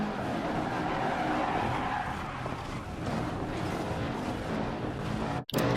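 A rally car in Dirt Rally 2.0 skids hard across loose gravel in an Australian stage, tires scrabbling and engine roaring for several seconds before a brief cut, loud and close with no talk.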